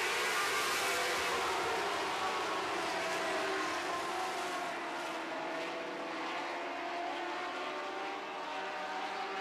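Sprint cars roaring at a dirt-track Lightning Sprints feature after a single-file restart, a loud continuous engine drone from the pack with no talk.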